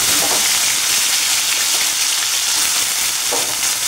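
Chopped potato fries steadily in a pan with a dense, continuous sizzle, loud and close throughout, with a few faint stirring scrapes and no talking.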